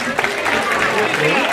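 An audience at a debate bursts into loud, dense applause that runs throughout, with a raised voice calling out over the clapping.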